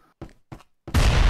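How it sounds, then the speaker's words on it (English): In a video game, a couple of soft thuds from the grenade being handled and thrown lead into a sudden loud, close blast that holds a heavy, rumbling roar. "I'm throwing a grenade!"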